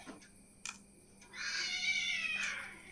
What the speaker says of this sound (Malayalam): അത് പൂച്ചയാണ്